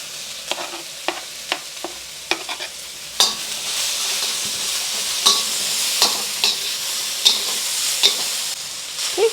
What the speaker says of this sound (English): And another tablespoon of oil. And we're gonna get our onions going.